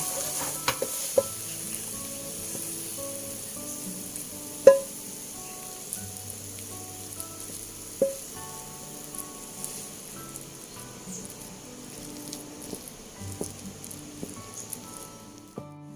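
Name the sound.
batter mixture cooking on the fire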